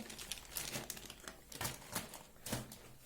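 A large plastic freezer bag crinkles up close in short, irregular rustling bursts, fairly quiet, with a few sharper crackles.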